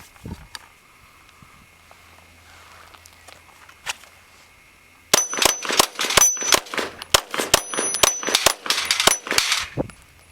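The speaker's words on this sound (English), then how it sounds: "We're going to pan the camera over here to a 6-plate rack, do some shooting" Rapid pistol shots from a Glock 19 Gen 4 at a six-plate steel rack, a burst of about a dozen sharp cracks with ringing metallic clangs, fired fairly close after a quiet opening with a few faint knocks.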